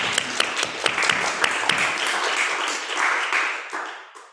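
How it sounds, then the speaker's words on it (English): A church congregation applauds during Sunday worship, a dense wash of clapping with a few sharper individual claps standing out, staying steady before tapering off at the end. "can we give her a round of applause"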